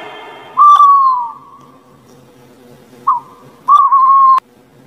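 An owl hoots in clear, loud, tonal calls: one long hoot, then after a pause a short hoot followed by another sustained one, heard alone.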